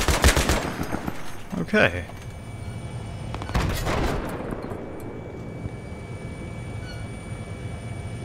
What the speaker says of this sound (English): I've no idea what they're shooting at though.